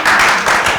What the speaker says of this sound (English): Clap for them as they come